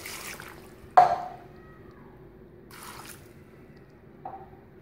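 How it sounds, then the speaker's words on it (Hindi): Two cups of water poured into a Lahori mutton karahi during cooking, heard as a soft splash followed by a brief gurgling trickle and a later small splash, faint and without talk. "इसके बाद पानी शामिल करेंगे"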